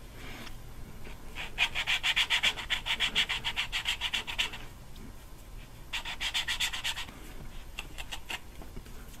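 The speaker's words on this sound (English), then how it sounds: "so that when you start to turn it again, it grinds in the area that you want it to." Valve on a BMW 323i cylinder head being lapped with grinding compound, giving two bursts of close, rhythmic back-and-forth rasping strokes separated by a brief pause, with no talking.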